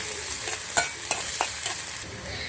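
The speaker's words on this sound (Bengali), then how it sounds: "এখন পেঁয়াজ আর রসুনটাকে লাল লাল করে ভেজে নেব তাহলে ভেজে নিচ্ছি" Chopped onion and garlic fry in a pan with a constant sizzle, broken by several soft clicks of a utensil stirring through it.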